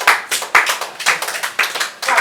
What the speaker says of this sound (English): It's alright, let's give them a round of applause.